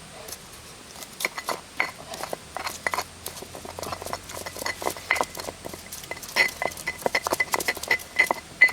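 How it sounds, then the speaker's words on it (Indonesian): Scraped turmeric is pounded and ground in a mortar in a rice-field setting, giving irregular sharp knocks and scraping clinks that come in quick bursts, close and fairly loud, with no talk. "Sekarang gue mau gerus dulu."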